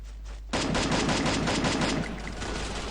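Rapid M4 assault rifle fire in the Free Fire battle game, a loud sustained automatic burst starting abruptly after a brief quiet lead-in and running continuously to the end, slightly easing near the close.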